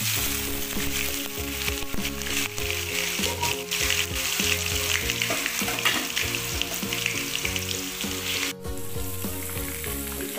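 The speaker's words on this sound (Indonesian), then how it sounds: "Kita goreng tahunya dulu ya." Tofu fries in hot oil with a steady, crackling sizzle under loud background music, with occasional stirring noises.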